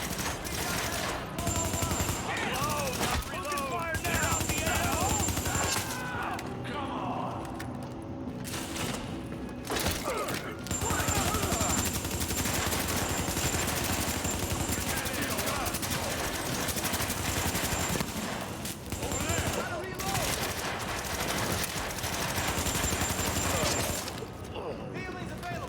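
Sustained bursts of automatic gunfire from a firefight in Tom Clancy's The Division, loud and nearly continuous, with the rattle of shots layered under a voice talking over the game audio.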